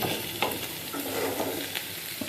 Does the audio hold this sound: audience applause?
no